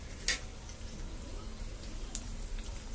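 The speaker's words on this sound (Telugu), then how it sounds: "వీటిని ఫ్రై చేసుకుందాం. ఫ్రై అవుతున్నాయి కదా" Dried red chilies, green chilies and mustard seeds frying in oil for pulihora, a soft steady sizzle with a brief sharp pop near the start and faint crackles later.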